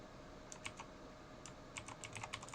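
A password typed on a computer keyboard: quiet, quick keystrokes in short irregular bursts with brief pauses, close but faint.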